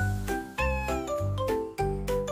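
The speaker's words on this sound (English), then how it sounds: "Meow meow! Meow meow meow meow!" A cat meows repeatedly, several drawn-out, wavering calls in quick succession, close and loud with no talking.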